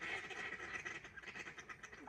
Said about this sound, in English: didn't realise there's that many ducks on here